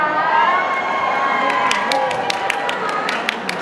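Cheering from an audience at a Thai trainee survival show, with a dense wash of voices and scattered claps and shouts, close and lively.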